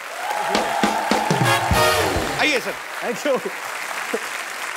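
An audience bursts into clapping and cheers, followed by someone speaking briefly in Hindi as the applause fades, on The Kapil Sharma Show.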